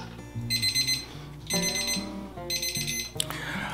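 A kitchen timer alarm rings loud and close in three repeated bursts of rapid electronic beeping, each lasting about half a second to a second, with brief pauses between, while frying karaage made from rice-bran-pickled chicken.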